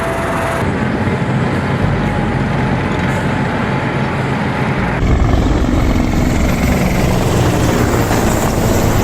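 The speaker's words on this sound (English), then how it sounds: "Russian and Mongolian Army aviation pilots performed the first joint flights on Mi-8 and Mi-24" Mi-8 and Mi-24 military helicopters flying during a joint Russian-Mongolian army exercise, with a loud continuous rotor and engine roar that fills the whole clip and shifts in tone partway through.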